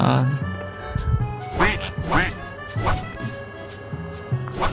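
Repeated cartoonish duck quacks from a chicken in Minecraft over game music and sound effects, several in a row, with a person talking loosely in the background.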